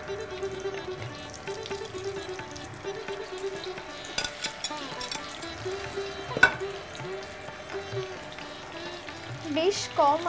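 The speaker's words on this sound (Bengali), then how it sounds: "তেলটা গরম হয়ে গেছে, এবার আমরা একটা একটা করে ছাড়বো।" Batter-coated stuffed prawns frying in hot oil for a Bengali prawn dish, giving a steady low sizzle and bubbling with occasional clinks of a utensil, with soft background sounds throughout.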